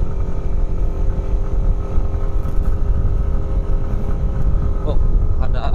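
Motorbike and car passing on a forest road at night, a close engine roar that builds and revs with a faint clatter near the end.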